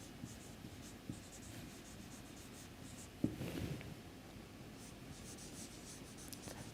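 Pen or chalk writing out dimensions during a lecture gives faint scratchy strokes under room noise, with a brief louder scrape burst in the middle.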